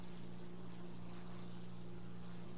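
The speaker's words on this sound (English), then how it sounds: "The engine definitely is running by itself." The steady engine drone of a Ta 154 A1 aircraft in War Thunder, a faint, even hum with a low tonal whine that holds without a break.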